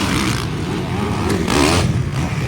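Racing motorcycles, including bike number 23, roar past during a race, a loud continuous engine drone with a swelling surge midway, heard without speech.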